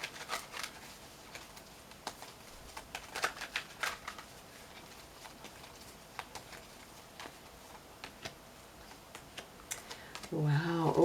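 Tarot cards being shuffled for a reading, a soft, quiet patter of quick card flicks running steadily throughout, with a voice briefly audible at the very end.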